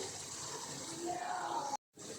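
Water trickles and splashes softly as a small amount is added to a pan of simmering sambal ikan bilis, a faint, close, steady pour that breaks off briefly near the end.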